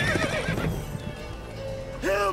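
Roach the horse in The Witcher 3 gives a short, clear neigh, with hoof clip-clops and a little speech.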